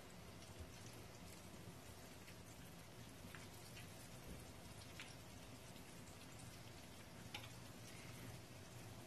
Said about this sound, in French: Je vais faire frire maintenant mes bâtonnets de viande à feu moyen.